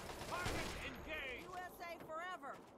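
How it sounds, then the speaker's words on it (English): Gunfire crackles in the distance in Fallout 3's Operation: Anchorage, a faint, steady fusillade of rapid shots under warbling electronic tones and a thin background hum. "Firing in the distance."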